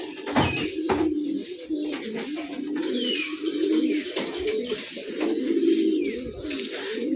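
A flock of pigeons released in the morning keeps up continuous overlapping cooing, low rolling calls near and loud, with a few brief sharper notes and no speech.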